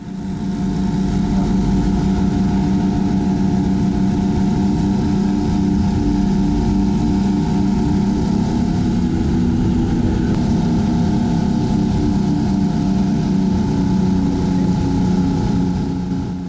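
Earthmoving scraper driven by two 190-horsepower engines, a 16 TDT, labouring at a steady loud drone with deep low rumble and harmonic engine tones, continuous and close throughout, with no pauses.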